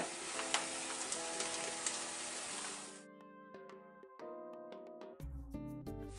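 Provençal vegetables sizzle loudly in a frying pan with cider vinegar, cayenne and sesame seeds for about three seconds, then the frying cuts off and music takes over.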